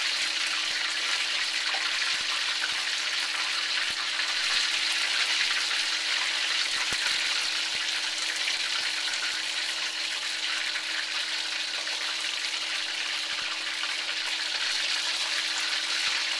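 Battered calamari fries in hot oil with a dense, steady hiss that keeps an even level from start to finish, close and uninterrupted, with no voices.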